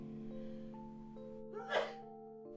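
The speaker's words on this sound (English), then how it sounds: "I had to sneeze." A single sharp sneeze bursts out near the end, loud and close, over a steady hum of background tones during a solo board game session.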